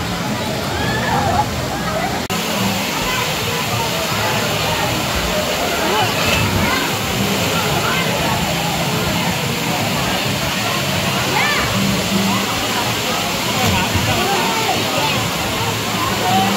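Balete Falls waterfall in Amadeo, Cavite, a loud constant roar of rushing, splashing water close by, with voices murmuring underneath throughout.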